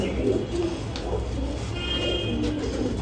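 A caged young female pigeon gives soft, low cooing calls, repeated in short murmuring bursts close by over a steady background hum.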